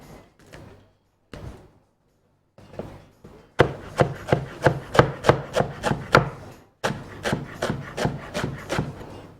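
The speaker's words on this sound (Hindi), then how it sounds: "बारीक चॉप करके हरा धनिया इसमें चला जाएगा" Knife finely chopping fresh green coriander on a board, a few scattered taps at first, then a rapid, steady run of loud, close strikes with one brief pause.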